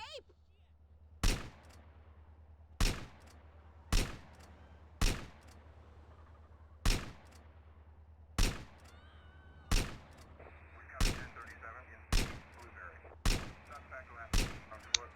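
Gunshots in GTA San Andreas, eleven sharp, loud single cracks spaced about a second apart over a steady low game rumble, with a faint tone appearing toward the end.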